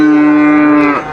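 A cow lows once at a livestock market, a loud, close, sustained moo with a steady pitch that breaks and fades near the end.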